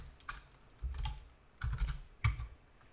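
Close, quiet typing on a computer keyboard comes in four short bursts of rapid key clicks separated by brief pauses, with no talking.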